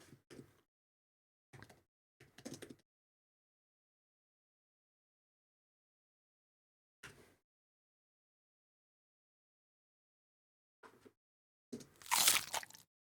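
A long crunchy bite sound effect for zombie sound design: several short crunching bursts spaced apart, quiet at first, ending in a louder, denser crunch near the end.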